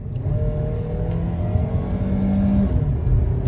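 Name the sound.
Chrysler 200 car engine revving while accelerating at full throttle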